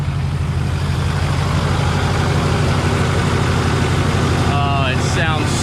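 Ford F450 truck engine idling steadily with a deep low rumble, close and constant throughout, with a brief squealing chirp near the end.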